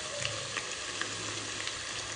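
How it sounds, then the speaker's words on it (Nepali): Chili powder frying in a pan of chicken curry, a steady close sizzle with faint crackles and light stirring scrapes, continuous throughout with no talk. "पाउडर लगाएर अलिकति फ्राई गर्छु"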